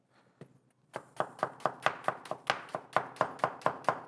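A knife cutting thin slices of vegetable on a cutting board for a tomato onion salad, a steady run of crisp, close chops at an even quick rhythm, with no talk.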